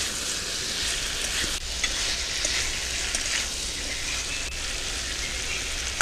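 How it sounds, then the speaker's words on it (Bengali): Fried potatoes and ridge gourd being stirred in a hot pan, a continuous close sizzle with faint scraping stir sounds and occasional small clicks, no voices. "ভালো করে নেড়ে নিচ্ছি। আলুগুলো দিয়ে দিলাম, একটু ভেজে রেখেছিলাম।"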